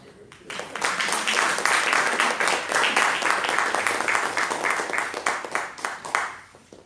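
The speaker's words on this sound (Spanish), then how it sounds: "Denle un aplauso más." Applause from a church audience at a Spanish-language family sermon rises quickly and carries on for several seconds as steady, dense clapping, then fades out.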